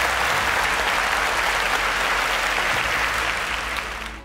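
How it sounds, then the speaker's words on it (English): Dense audience applause on a quiz show, loud and continuous with many hands clapping at once, tapering slightly at the very end. "Round of applause for them."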